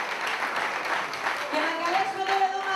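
A crowd applauds the team's coach with steady clapping throughout, while a voice talks over it.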